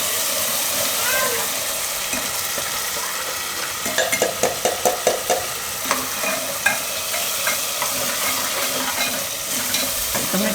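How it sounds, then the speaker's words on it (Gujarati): Tomato puree stirred into a hot oil tempering crackles and sizzles loudly, with a burst of quick scraping spoon strokes against the pan partway through. "ટમેટા નાખીને થોડીક વાર ફેરવી લેવાનું તેલમાં આ રીતે."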